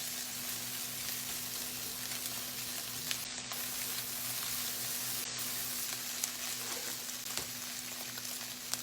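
Chicken fried rice stirred on high heat in a hot pan, a continuous, even sizzle and crackle with faint scraping from the stirring, steady throughout and without speech.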